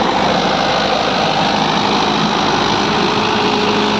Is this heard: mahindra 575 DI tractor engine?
yes